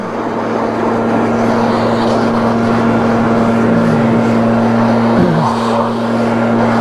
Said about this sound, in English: Buy yourself a nice commercial leaf blower.